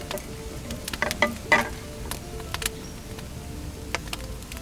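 Butter browning in a pan while baking chocolate chip cookies with a wood-fired oven, giving a soft steady sizzle with scattered crackles and pops and a few stirring clicks, close and alone without talk.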